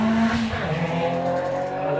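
An Audi TT sprint race car over revving at a club sprint event, a loud, close, strained high engine whine that wavers and drops briefly before climbing again, with no talk.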